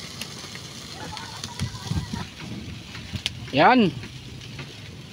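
Food grilling over a strong fire on a windy beach, a low crackle and sizzle under wind noise, with a short spoken word and a brief vocal sound partway through.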